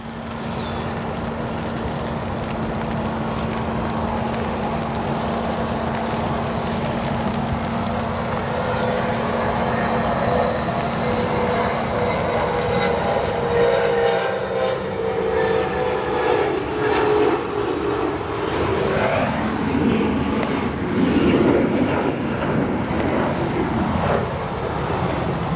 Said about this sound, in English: Listen to the CF6 reversers.